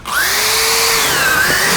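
A Lowe's power drill spins a mixing paddle at full speed, a loud, close, continuous motor whine holding steady pitch after a quick spin-up, alone without voices.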